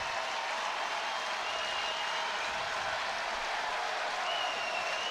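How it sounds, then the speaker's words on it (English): A large crowd at a college baseball game, Auburn versus Ole Miss, cheers and applauds in a steady, distant wash of noise that holds throughout. "this big old crowd needs to come to his feet right now"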